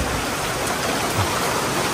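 Heavy rain pouring down outside a house during a downpour, a dense, steady hiss of water that stays loud and unbroken from start to finish with no voices.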